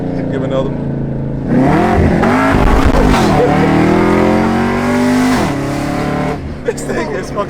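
Supercharged 600 hp Camaro ZL1 with long tube headers and off-road pipes, its exhaust revving loud and close in one long sustained blast, with short rumbles before and after.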